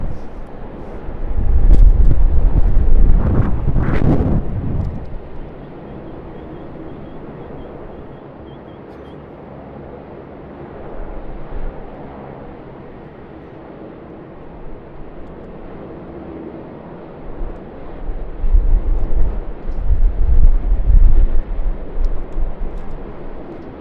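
A China Airlines Airbus A350 jet at Sydney Airport, with a buffeted engine rumble that surges loudly early on, fades to a low steady drone, then swells again in gusty bursts mixed with wind noise.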